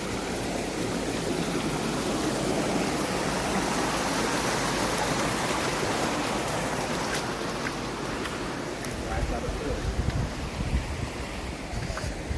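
Water rushes steadily along a trekking route near Bhimashankar, a dense continuous roar that stays loud and unbroken throughout, with faint wind and a few scattered knocks toward the end and no talking.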